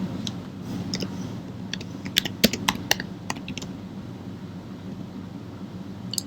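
Quick bursts of computer keyboard keystrokes clatter irregularly over a steady low room hum, with a cluster of sharper clicks in the middle and sparse taps later.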